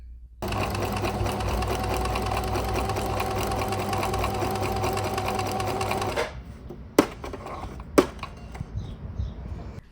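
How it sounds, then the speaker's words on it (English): A sewing machine stitches darts in fabric for a summer top, running in one loud continuous burst for about six seconds and then stopping, followed by two sharp clicks. "I got my darts traced onto my fabric and I just need to sew it."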